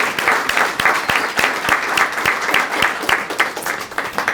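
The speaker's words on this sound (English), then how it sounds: "So can we give all of our sponsors a round of applause?" An audience claps steadily for several seconds, a dense, even patter of many hands with sharper individual claps standing out.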